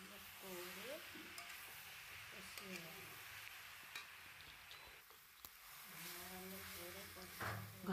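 Fried baby potatoes tossed with spices in a pan for a pea and potato curry, a quiet sizzle with soft scraping stirs and a few utensil taps, under a voice talking briefly at the start and end.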